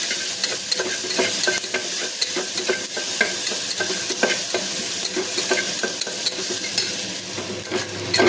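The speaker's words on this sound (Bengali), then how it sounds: "এবার এর মধ্যে দেখুন চপড অনিয়ন, গার্লিক, জিঞ্জার আর চিলি সব একসাথে এর মধ্যে আমি দিয়ে দিলাম। একটু হালকা করে এটাকে ফ্রাই করব।" Chopped onion, garlic, ginger and chili frying in hot oil in a pan, a steady bright sizzle broken by repeated stirring scrapes and light utensil clicks, close and continuous with no talking.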